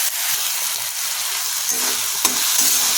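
Spices sizzle and fry in hot oil in a pan for moong dal, a steady loud crackle with occasional stirring scrapes.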